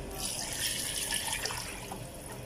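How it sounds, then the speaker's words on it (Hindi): Water gushes steadily into a pot of fried spices while green chana pulao is being cooked, a continuous close splashing pour lasting a couple of seconds. "अब हम इसमें पानी ऐड कर देंगे।"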